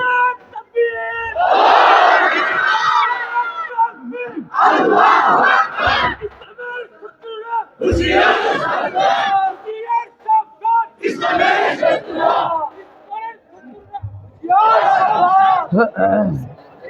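A crowd loudly chants takbir in unison, answering a leader's calls in repeated bursts of several seconds separated by short pauses, voices dense and close, at a gathering of students with a qari singing revolutionary ghazals.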